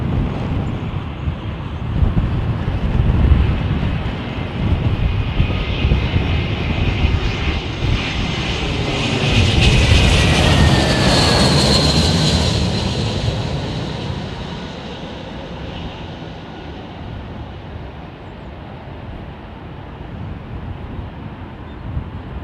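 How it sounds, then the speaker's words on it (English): Boeing 767 jet engines at London Heathrow Airport swell into a loud roar as the airliner passes, then fade away, with wind buffeting the microphone throughout. "Look at the auto thrusters working on that 76, man."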